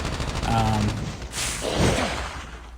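Gunfire aimed at a zombie boss's head in a mobile zombie shooter game, heard as a loud burst of shots in the middle of a short stretch over steady game noise.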